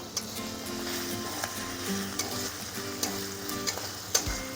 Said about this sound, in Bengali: এগুলো ভালো করে একটু ভেজে নেব।